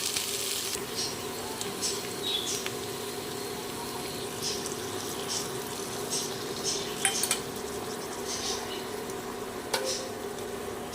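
A utensil stirs and scrapes in a pan as pointed gourd is mixed with mustard paste and green chilli over a low, steady sizzle, with soft clinks throughout.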